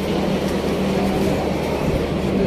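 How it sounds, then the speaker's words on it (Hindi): The Gomti Express train rumbles steadily and loudly nearby at platform 12 in Delhi, with continuous low mechanical noise and no voices. "और ये लगी अपनी ट्रेन गोमती एक्सप्रेस।"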